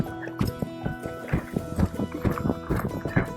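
A gaited horse circling in an arena, its hooves clip-clopping in an uneven, rolling rhythm of close, soft thuds, steady throughout.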